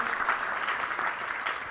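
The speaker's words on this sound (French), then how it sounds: "Merci d'applaudir tout ce panel." Audience applause for a business round-table panel at a forum, steady dense clapping from a crowd filling the whole short stretch at moderate level, with no talk.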